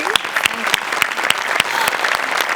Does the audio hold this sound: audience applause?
yes